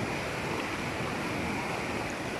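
Floodwater of the Bulatukan river rushing in a steady, loud, broadband roar that holds unbroken throughout, with no voices.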